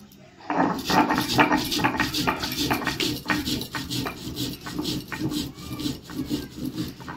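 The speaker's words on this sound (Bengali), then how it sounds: "এবার জিরেটা বেটে নেবো।" Cumin is ground by hand on a stone in a home kitchen while fish curry cooks, producing steady rhythmic scraping and rubbing strokes, close and fairly quiet, repeating with a regular back-and-forth pulse.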